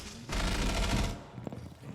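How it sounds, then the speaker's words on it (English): A rapid burst of gunfire in the video game Rainbow Six rattles for about a second, followed by a faint single shot, fairly quiet and slightly distant. "you can see some gunfire there"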